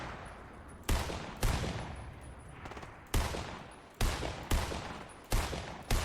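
Gunfire in Fortnite, a series of sharp, loud shots about every second or so with decaying tails in between, close and alone with no talking.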